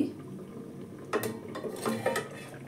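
A metal pan lid lifts off a covered pan of cauliflower cooking over low gas, giving a short clatter and scrape followed by light clinks and a soft sizzle.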